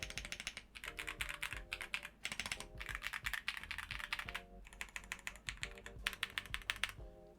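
Rapid mechanical keyboard typing, a steady stream of close clacks in short bursts with deeper thocks from larger keys mixed in, heard alone without voices.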